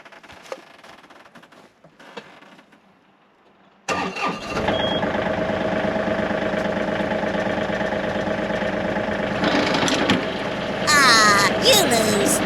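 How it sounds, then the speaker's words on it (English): A farm tractor engine cranks and catches after a quiet stretch, then settles into a steady, loud idle with a rough low rumble, nearby and continuous, with a higher clattering rise near the end. "I'm gonna go start the tractor"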